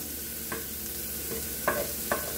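Kielbasa fries in butter with a constant close sizzle, and a few clinks and scrapes of stirring come through with no voices.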